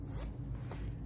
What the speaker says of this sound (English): these zippers are amazing.